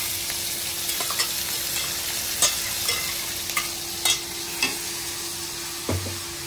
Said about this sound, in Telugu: ఉల్లిపాయలు అయితే చక్కగా వేగిపోయాయండి ఈ మసాలా ముద్ద కూడా వేసేస్తున్నాం ఇందులో